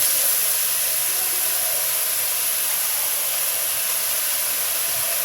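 Palm kernel pulp frying in ghee with cinnamon and cardamom, producing a loud, continuous broadband hiss and sizzle that stays even throughout with no talk.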